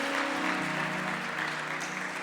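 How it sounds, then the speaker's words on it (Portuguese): Church congregation applauding, a brief wash of many hands clapping heard at a distance in a reverberant hall, with a low sustained hum or music underneath. "Você pode aplaudir por esse povo aqui lindo."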